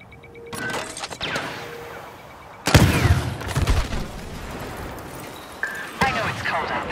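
Blaster fire in Star Wars Battlefront on PS4 as a droid is shot: a few sharp, punchy laser bursts with zapping sweeps, the loudest volley near the middle, set against ongoing game sounds.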